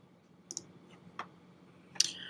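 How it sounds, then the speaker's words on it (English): Computer mouse clicks while downloading a file, a few soft isolated clicks spread across a quiet background, the last one louder. "I'm going to click on the download at the top corner"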